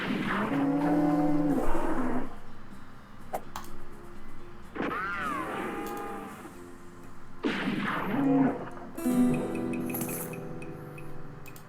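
Cattle mooing in a Western-themed video game, several long, loud lowing calls one after another with short pauses between them, close and clear with no talk over them.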